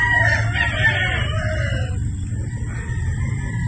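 A gamecock rooster of sweater and Boston bloodline crows loudly and close by, one long drawn-out call filling the whole moment.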